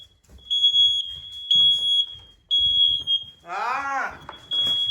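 A home smoke alarm sounds in a continuous high-pitched piercing beep, while people talk over it and one voice rises in a brief shout.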